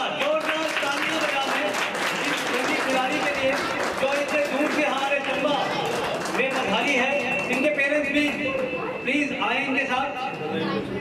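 A crowd applauds steadily and loudly for the runner-up at a district chess championship closing ceremony, dense clapping filling the whole stretch with faint chatter mixed in.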